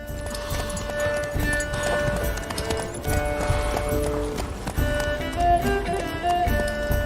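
A horse gallops in a video game, its hooves clip-clopping in a fast, continuous rhythm close by, with tonal game music or ambience running underneath.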